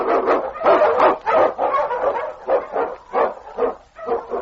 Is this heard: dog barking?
yes